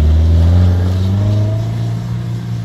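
Subaru Forester SH 2.5 non-turbo powering through deep sand, a loud, close, sustained engine drone under load that eases slightly toward the end.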